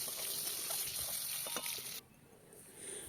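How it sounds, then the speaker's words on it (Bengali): Boiled duck eggs frying in hot oil with a little salt, giving a soft, faint sizzling hiss that drops away sharply after a couple of seconds. "তেল গরম হলে সিদ্ধ করে রাখা ডিমগুলো দিয়ে দিলাম সামান্য লবণ দিয়ে উল্টে পাল্টে ভেজে নিলাম"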